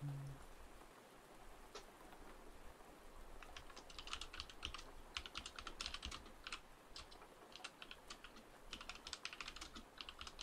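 Quick bursts of soft, close computer-keyboard typing patter over a steady wash of gentle rain, all at low volume with no talking.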